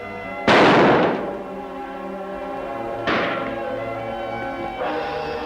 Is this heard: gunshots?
yes